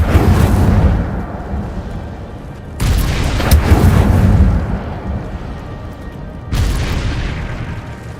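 Incendio fire spell cast in the Hogwarts Legacy video game: three loud booming bursts with fiery rushing roar, each decaying over a couple of seconds before the next blast.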